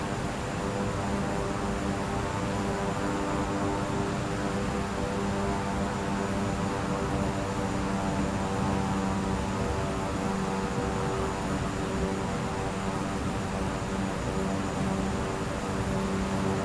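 A Beechcraft propeller plane taxis in Microsoft Flight Simulator, its engine a steady, loud droning hum with a constant whine that holds unchanged throughout.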